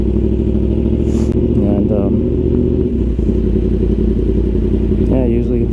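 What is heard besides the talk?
Yamaha R1 motorcycle engine riding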